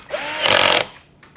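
Power tool tightening bolts while fitting an S2 bash plate, one short close whir lasting under half a second, with faint mechanical clicks before and after.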